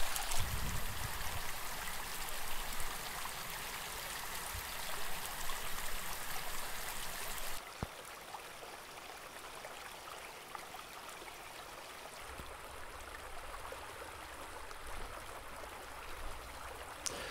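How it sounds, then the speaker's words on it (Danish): Water from a marsh spring on a hilltop runs freely downhill toward a stream in the Rold Vesterskov woods, a continuous rushing trickle that is brighter at first and then softer and steadier. "En sumpkilde på en bakketop, hvor vandet får frit løb ned ad bakken og ned mod åen"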